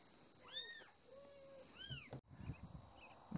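A kitten gives several thin, rising-and-falling meows with pauses between them, close and fairly quiet, followed by faint shuffling noises.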